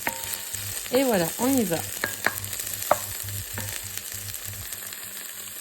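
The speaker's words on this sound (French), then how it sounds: "faire revenir vos oignons frais dans un petit peu d'huile d'olive" Spring onions fry in a little olive oil with a steady close sizzle, while a brief spoken phrase and a few sharp clicks of utensils sit over the hiss.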